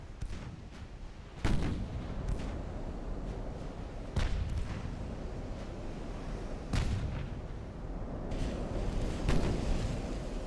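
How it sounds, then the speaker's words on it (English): Heavy 8-inch naval guns firing in the warship game Ultimate Admiral: Dreadnought, four or five sharp booming salvos spaced a few seconds apart over a constant low rumbling battle din, with no talking. "Those are the 8-inch guns firing."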